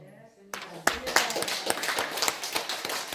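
A congregation claps during a sermon at a Daejonggyo church service, a brief spoken moment giving way to a burst of scattered, uneven hand claps of moderate loudness.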